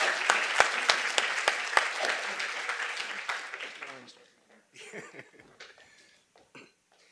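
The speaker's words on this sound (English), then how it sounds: "Please join me in applauding his efforts and what he's about to give to us." An audience at a lecture event applauds loudly for about four seconds, the clapping thinning out into scattered coughs, throat clearing and quiet murmuring.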